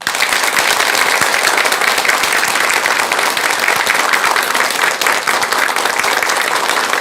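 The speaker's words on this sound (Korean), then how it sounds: "전국의 훌륭하신 대덕 큰 스님들께 큰 박수 한번 주시기 바랍니다" Loud, dense applause from a temple audience honoring eminent Buddhist monks, steady and unbroken for the full stretch.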